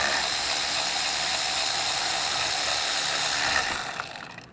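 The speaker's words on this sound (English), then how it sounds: "to get these bolts out, I'm using a 8mm with this extension" A ratchet with an 8mm socket on an extension loosens bolts on a 2010 Ford Focus during water outlet removal, giving a steady, dense run of close clicking that stays level for about four seconds before trailing off. No one speaks.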